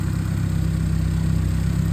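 A 1999 Nissan Silvia S15 Spec R engine idles steadily under the hood, a close, loud, even low rumble with a rapid regular pulse and no talking.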